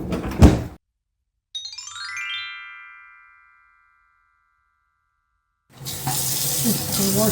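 A thud opens the clip, then after a gap a brief ringing tone fades out. Near the end a kitchen tap gushes into a sink to wash sweet potatoes, loud and steady.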